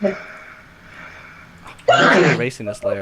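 A single loud sneeze bursts out suddenly after quiet, faint background speech, followed by brief murmured words close to the mic.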